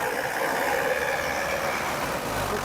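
A Chevrolet Tavera LT engine runs at close range, a steady dense mechanical roar with a broad hiss, holding at an even level with no distinct rev peaks and no talking.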